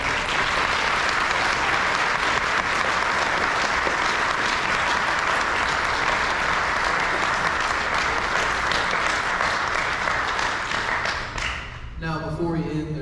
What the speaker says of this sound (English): Can we please give both of our mayoral candidates a round of applause?